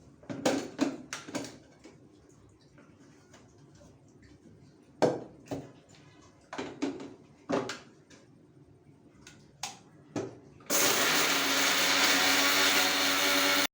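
A mixer grinder whirs loudly and steadily near the end, grinding half an onion for a greens sukka, after a stretch of scattered clicks and knocks from loading the jar.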